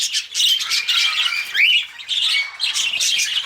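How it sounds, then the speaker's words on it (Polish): A flock of budgerigars in an aviary chirps and chatters nonstop, a dense, loud, high-pitched twittering with occasional sharper squawks. "od tych papużek, taki świergot"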